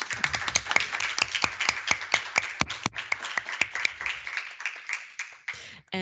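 Sparse clapping from a small panel audience at an energy justice conference, a few hands tapping out uneven claps that thin out and fade, fairly faint and roomy.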